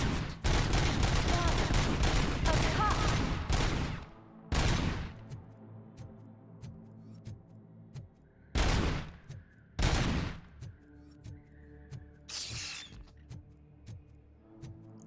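Gunfire in RoboCop: Rogue City, video game: a dense sustained burst of rapid shots, then several separate short volleys over a ticking background, with someone talking in between.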